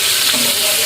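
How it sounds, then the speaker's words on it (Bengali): Pabda fish seasoned with salt and turmeric frying in a pan for a Bangladeshi dopeyaja, a loud continuous sizzle with faint stirring and no talk. "একটু ভেজে নেব।"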